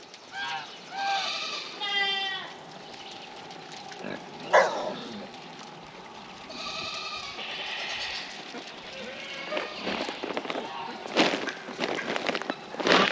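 Pigs in a pen beside a vegetable garden give off a few squeals and grunts that come and go. Outdoor rustling and handling noises fill the rest, and there is no speech.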